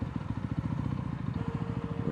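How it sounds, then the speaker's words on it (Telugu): A motorbike engine idles steadily up close, its low, even pulsing continuous throughout with a faint clatter on top, at a temple town parking spot at Srisailam. "బైక్ పార్క్ చెయ్యాలి శివా"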